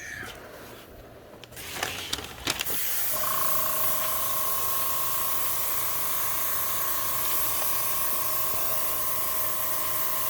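An airbrush hisses steadily as it sprays paint onto a 1996 Cadillac Fleetwood lowrider, a continuous close spray that starts after a few clicks and handling noises and holds evenly to the end.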